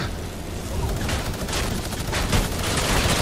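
Minigun fire in the Air Royale video game rattles on as a dense, continuous barrage of rapid shots, loud and unbroken for the whole stretch with no talk.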